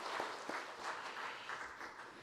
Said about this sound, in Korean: 뜨겁게 한번 박수해 주시기를 바랍니다